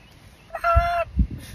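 A short nasal honk from a voice imitating a goose, about half a second long, with a faint low rumble of background noise.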